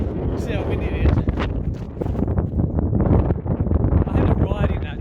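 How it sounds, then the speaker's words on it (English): Strong gusty wind buffets the microphone at an outdoor event, a dense continuous roar with rising and falling surges, and a voice talks briefly over it. "see how windy it is."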